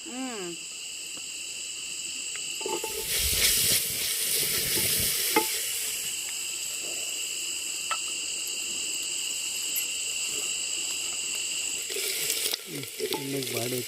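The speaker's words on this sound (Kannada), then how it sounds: "ಎಣ್ಣೆಲಿ ಬಾಡಿಸ್ಕೋಬೇಕು." Vegetables sautéing in oil in a pan in a village kitchen, with a steady sizzle running throughout and louder bursts of stirring near the start and end, while crickets chirp in the background.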